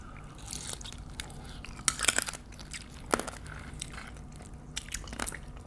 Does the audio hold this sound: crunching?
yes